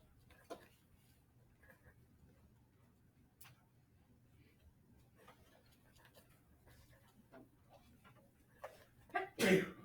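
A single sharp sneeze bursts out near the end of a quiet room recording in a classroom lesson, following faint scattered clicks and distant murmurs.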